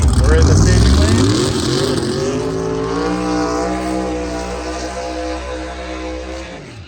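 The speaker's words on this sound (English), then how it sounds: "That's a burnout." A Subaru WRX does a burnout in a drag strip staging lane: a loud engine revs hard and rises in pitch, then holds a steady, roaring drone until it cuts off.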